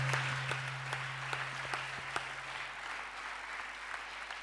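Church congregation applauding during a French-language sermon, a fairly quiet, continuous patter of many hands with a few sharper claps standing out and a low steady hum beneath.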